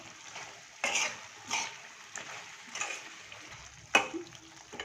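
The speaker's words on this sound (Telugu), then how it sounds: "కారం వేసినాక కొద్దిగా తిప్పుకొని మళ్ళీ కాసేపు మూత పెట్టి మగ్గించుకుందాం." Chicken curry with chili powder stirred in a pan: a few scraping, clinking spoon strokes against the metal at irregular intervals, close and moderate, over a faint background sizzle.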